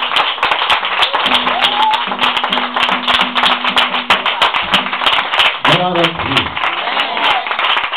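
A church congregation claps and applauds in a steady, dense patter that fills the clip, with a brief sung or spoken voice cutting through near the end.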